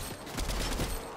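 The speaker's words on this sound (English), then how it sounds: "Oh, gunfire." Gunfire in the Fortnite video game, a brief burst of several rapid shots at moderate distance, with no talk over it.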